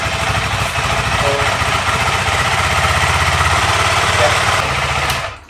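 A KTM 390 motorcycle engine runs loud and steady with a rapid chugging putter throughout, cutting off abruptly near the end.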